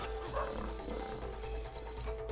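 A lion roars inside the video game It Takes Two, one sustained growl heard over steady game music and low background hum, with no talking.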